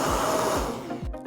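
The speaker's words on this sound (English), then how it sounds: "Step 4 is to vacuum the keyboard chassis." A vacuum cleaner runs steadily and close up while cleaning out a dirty work keyboard chassis, a constant whooshing drone with a few low bumps as the nozzle knocks against the case.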